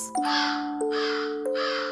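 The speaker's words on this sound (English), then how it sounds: "It caws happily as it flies over spooky houses and glowing jack-o'-lanterns." A crow caws three times in close succession, each a harsh nasal call, loud and near with no talk over it, set against a Halloween night scene.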